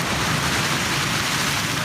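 Steady rain falls in Lahore in winter as a dense, even hiss of drops on surfaces, loud and close, with no voices.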